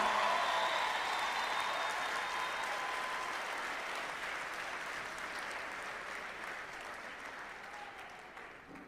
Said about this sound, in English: Please give your parents, loved ones, and academic staff a loud round of applause